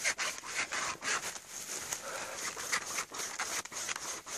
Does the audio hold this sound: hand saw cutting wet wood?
yes